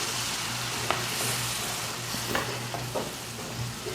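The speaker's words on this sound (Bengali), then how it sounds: "এই যে পানি দিতেছি" Onion cooked with chili, turmeric and mixed spice masala for a spiny eel bhuna sizzles hard after a splash of water goes in, a close steady hiss broken by a few stirring clicks.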